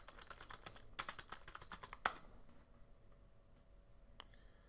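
Someone types a search into Google on a computer keyboard with soft, quick keystrokes in a short flurry. A couple of sharper clicks stand out before the typing thins to a few isolated taps, all quiet and close.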